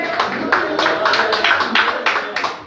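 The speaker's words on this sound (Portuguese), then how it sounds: "Poder sentar dando uma salva de palmas para Jesus, bem alegre." Church congregation claps together in a steady rhythm, with sharp, evenly spaced bursts about twice a second.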